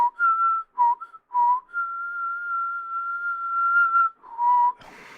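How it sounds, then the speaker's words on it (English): A person whistles alone, close and clear, in short bursts and one long held note, alternating between blowing out and sucking in, with pitch shifting between two tones and a breathy noise at the end. "Can you whistle blowing in and like sucking in?"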